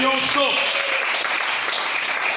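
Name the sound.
congregation applauding the Lord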